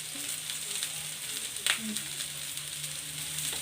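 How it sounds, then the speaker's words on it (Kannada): Ivy gourd curry seasoned with chili powder, coriander powder, salt and chaat masala fries on low heat, making a soft, steady sizzle with a brief scrape of stirring partway through. "ಇವಾಗ ಇದನ್ನು ಒಂದು ಎರಡು ನಿಮಿಷ ಲೋ ಇಟ್ಟೆ ಫ್ರೈ ಮಾಡ್ತಾ ಇರೋಣ"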